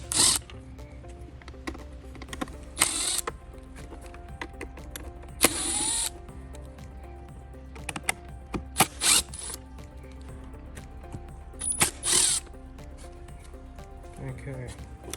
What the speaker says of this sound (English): Now what you want to do is remove your screws.